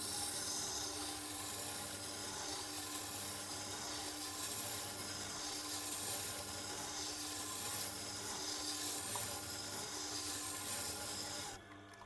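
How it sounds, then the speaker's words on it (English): Woodworking chisel being ground and sharpened, a continuous close abrasive rubbing and rasping that holds steady throughout and eases off at the very end, with no talk. "Now I can see we're definitely grinding more on that side"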